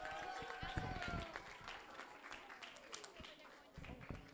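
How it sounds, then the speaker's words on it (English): An audience applauds a graduating class at a Sai Center graduation and devotional session, scattered clapping at low volume and somewhat distant, with talking mixed in. "a big round of applause for our SSE class of"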